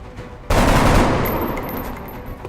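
A soldier's shot fires in XCOM: Enemy Within, a sudden loud burst of gunfire that rings out and slowly decays, with no talking over it.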